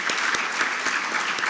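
A crowd at a tennis league auction in India claps steadily in a brief, continuous burst of applause.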